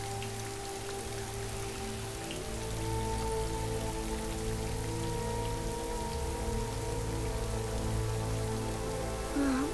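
Steady rain falling on a surface, a dense, even hiss of drops that continues throughout, moderately quiet, with a soft tonal hum beneath and no talking.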